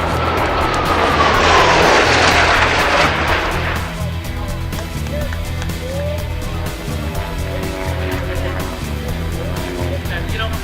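Propeller airplane roaring past at an airshow, a loud engine surge that peaks and then falls away to a steadier, more distant drone, with crowd and voices in the background.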